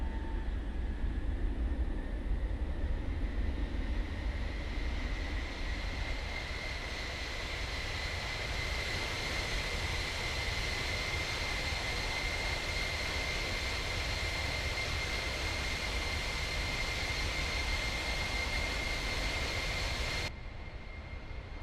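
A C-17 Globemaster III military transport aircraft drones with a loud, steady engine roar and a sustained high whine. The sound holds unbroken and close for about twenty seconds.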